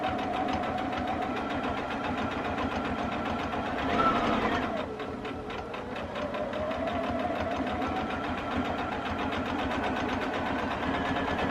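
A sewing machine stitches quilt fabric with a steady mechanical whirring hum that briefly changes pitch and speed partway through.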